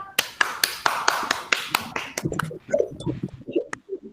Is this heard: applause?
yes